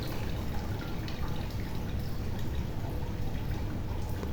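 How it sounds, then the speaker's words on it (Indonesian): Water is poured onto an orchid's growing medium and roots, a quiet, steady trickle and patter of liquid soaking in at close range, with no talking. "kita siram-siramin aja ke dalam media tanam anggreknya atau ke dalam akar anggrek"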